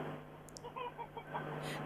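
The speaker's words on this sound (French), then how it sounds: "Il y a des poulets là un peu partout, non?" Chickens clucking around a home in Tanzania: a handful of short, quick clucks close by over a steady low hum, with no talking.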